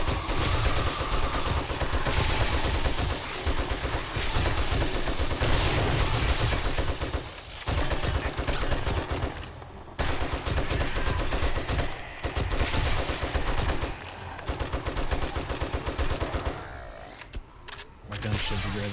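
Near-constant rapid gunfire from a video game zombie fight rattles on loudly for most of the stretch, with brief gaps at reloads and some talking over the shooting.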